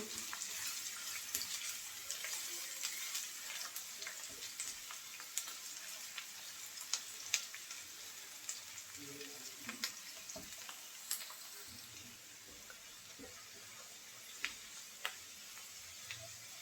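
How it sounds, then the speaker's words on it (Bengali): Dried chilies, crushed garlic and chopped onion fry in hot oil in a village-style kitchen, giving a steady close sizzle dotted with small pops and sharp clicks of a utensil, with no talking. "এখন এই তেলের মধ্যে দিয়ে দেব শুকনো মরিচ থেতো করা রসুন আর পেঁয়াজ কুচি পেঁয়াজ রসুন লাল লাল করে ভেজে নেব"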